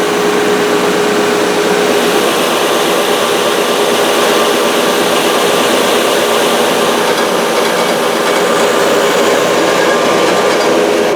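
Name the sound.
thickness sander running on guitar neck blanks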